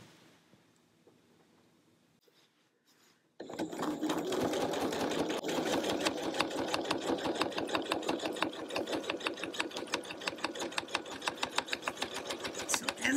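A sewing machine stitches rows on a quilted placemat, guided by a seam guide bar; after a few quiet seconds it starts and runs in a steady, close, fast rattling stitch rhythm until the end, with no voices.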